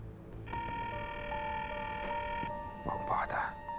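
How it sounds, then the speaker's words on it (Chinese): A call that will not connect plays a steady electronic phone tone lasting about two seconds, with faint line noise around it, followed by brief muffled sounds at the end. "电话打通了吗？ 打不通。"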